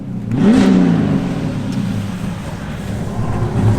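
A 1000HP 2JZ-engined BMW E36 revs hard in its power band on track, a loud close engine note sweeping up in pitch then holding a steady drone with a whooshing, buzzy edge, alone with no talk.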